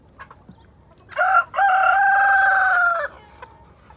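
A backyard rooster gives one loud, close crow lasting about two seconds, with a brief cluck just before it and faint farmyard clucks around it, among molting chickens.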